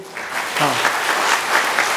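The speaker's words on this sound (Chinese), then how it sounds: "而且你向后转咱用鼓掌来鼓励" A church congregation at a Taiwanese-language worship service claps together in sustained, moderately loud applause, with a brief voice heard over it.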